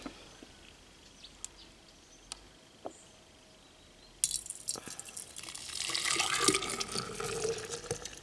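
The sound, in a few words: liquid being poured while cleaning a machine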